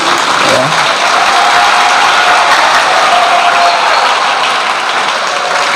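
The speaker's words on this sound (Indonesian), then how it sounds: "Penuh gedung ini, ya, menggema tepuk tangannya." Loud, sustained applause from a large crowd fills a packed main hall at Pondok An-Nuqoyah in Guluk-Guluk, Sumenep, during a Hari Santri 2022 gathering, the clapping steady and reverberant throughout.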